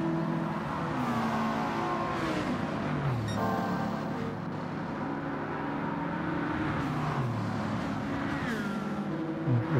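Racing car engines in Gran Turismo 7, including a Lamborghini, drone and whine steadily throughout, with rising and falling pitch sweeps as cars shift and accelerate, loud and continuous with no pauses.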